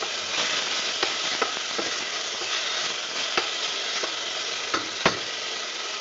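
Thankuni leaves fry in a pan as the water cooks off, giving a constant close sizzle broken by occasional sharp scrapes and clinks of a spatula stirring against the pan.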